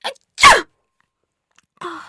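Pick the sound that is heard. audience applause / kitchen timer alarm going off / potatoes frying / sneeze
sneeze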